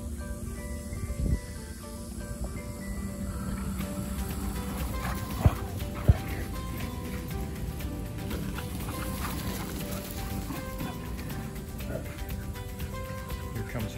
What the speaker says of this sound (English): So Wile is demand barking, wanting to play with Pacha.